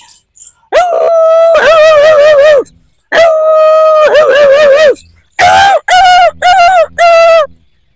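Someone mimics a dog with long howling barks followed by a burst of short yelps, loud and up close.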